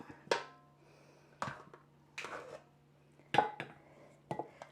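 Noodles being moved into a little serving pot with several sharp clinks and clatters of utensils against cookware, spaced irregularly with quiet gaps between, close and clear with no talking.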